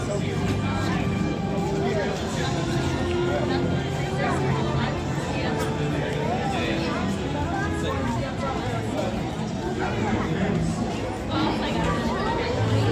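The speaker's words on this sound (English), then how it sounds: "Taking my way through the crowd." Dense crowd chatter at Universal Studios Hollywood during a Back to Hogwarts event, a steady babble of many overlapping voices surrounding the listener, fairly quiet and unbroken.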